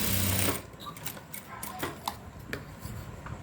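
A sewing machine stitches a boat-neck blouse neckline, starting with a short steady whir, then breaking into sparse, irregular ticks and clicks as the fabric is guided.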